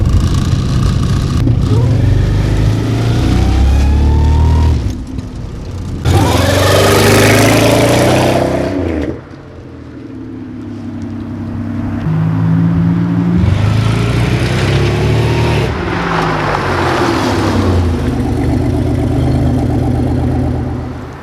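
Pontiac Fiero with a swapped 3800 V6 engine driven on a test drive around the block, its engine droning steadily and loudly with a few revving surges as it accelerates and shifts, heard close from inside the car without talk.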